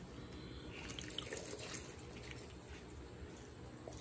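Soy sauce being poured for a Samoan chicken marinade, a faint thin trickle of liquid running steadily for a few seconds against low room noise.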